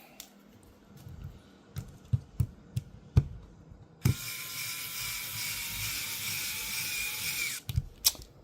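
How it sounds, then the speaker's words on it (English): An electric screwdriver drives screws into 3D-printed hand parts, whirring steadily for about three and a half seconds after a series of sharp clicks and taps from handling the parts. "I got an electric screwdriver, which is very handy"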